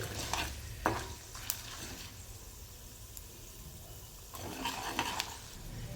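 Peanuts frying in a pan for an instant upma premix, a faint, even sizzle with a few light stirring clicks near the start and end, and no speech.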